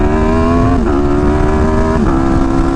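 A motorcycle engine while cruising with small throttle blips, a loud, steady, close drone that dips and rises twice.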